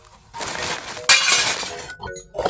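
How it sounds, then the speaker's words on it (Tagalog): Drinking glasses are smashed while an old bar is being demolished. Two loud crashes of shattering glass are heard, the second sharper, each followed by tinkling shards, then a short quiet gap and a last small clink. "Tsaka mga baso."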